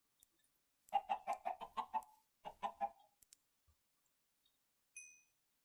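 A burst of several quick clucks from Minecraft chickens, then a few more, clear and close in otherwise quiet surroundings, followed by a short high-pitched chime.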